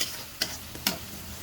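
Spices (turmeric, coriander, chili and cumin) being stirred in a frying pan for a koi fish and tomato bhuna, two quick scrapes over a soft, steady sizzle.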